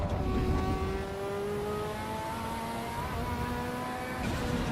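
A Ferrari engine in the racing game Assetto Corsa EVO revs loud and close, rising and shifting in pitch through the gears, with a steady droning tone and no talking.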